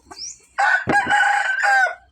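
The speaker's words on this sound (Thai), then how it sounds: "อันนี้จะเป็นโซนไก่พี่น้อง ไก่ตัวผู้" A rooster in the cockerel pen of a Thai farm garden, kept among fighting cocks, crows once loud and close, a full drawn-out call with a short cluck before it.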